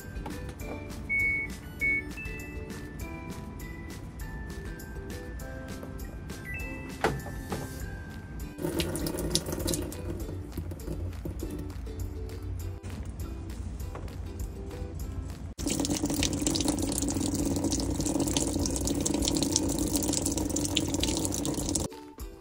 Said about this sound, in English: we'll wait the 24 hours before I do the test wash